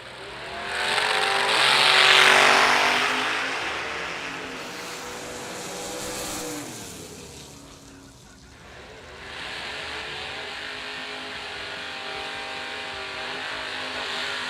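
Drag racing cars, among them a small-tire Mustang, accelerate hard down the strip, a loud roaring pass that swells, fades, and gives way to another engine's sustained drone.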